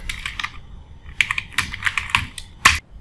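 Bursts of quick clicking keystrokes on a computer keyboard as search words are typed, in uneven clusters with short pauses between them, close and fairly quiet.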